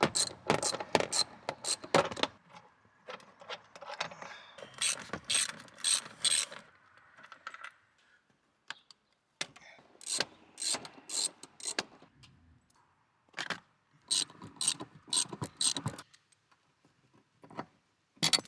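Socket wrench ratcheting out car seat bolts inside a Subaru Impreza sedan, bursts of quick clicking ratchet strokes separated by pauses and softer handling noises, close and fairly quiet.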